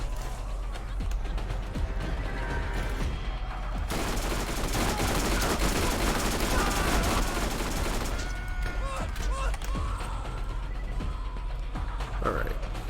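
Dense, continuous gunfire rattles through a Borderlands firefight, heaviest in the middle stretch with rapid overlapping shots, while someone talks throughout.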